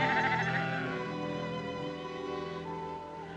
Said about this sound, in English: the sheep cried again